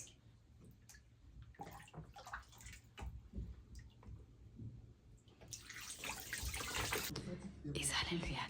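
Water is poured over a child to rinse during a bath at home, faint splashing and trickling in short pours that swell into a louder, sustained gush near the end, with soft voices talking between pours.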